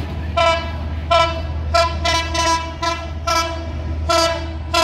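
The Benapole Express, an intercity train with Chinese-built coaches crossing toward Dhaka via the Padma Bridge, rumbles past nearby while its horn sounds in a series of repeated loud blasts over the steady roar of the carriages.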